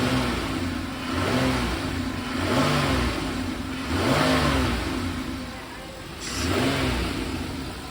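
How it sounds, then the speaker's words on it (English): Buick car engine revved several times in a fuel systems lab, rising and falling in repeated swells over a steady idle, close and moderately loud. "On the Buick, we're gonna rev it up a little bit"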